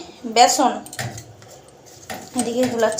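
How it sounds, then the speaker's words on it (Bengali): Gram flour (besan) batter is whisked in a bowl, the utensil clinking and tapping against the bowl in quick close bursts while someone talks over it. "বেসন, বেসন ফাটাচ্ছি, তো মানে লাউ দিয়ে বড়া ভাজবো।"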